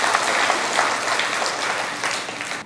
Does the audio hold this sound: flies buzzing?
no